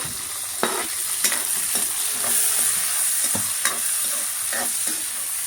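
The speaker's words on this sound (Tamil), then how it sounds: "நெருக்கி வச்ச கட் பண்ணி வச்ச எல்லாத்தையும் எண்ணெயில் போட்டு சும்மா வதக்கிக்கலாம்." Chopped capsicum and onion are sautéed in hot oil, giving a steady close sizzle broken by repeated scraping stirs of a spoon against the pan, with no voices.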